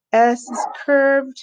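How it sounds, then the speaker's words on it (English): A pet dog barks and yips a couple of times in the background, the harmonic barks brief and fairly close, interleaved with a person speaking. "sorry about my dog there in the background"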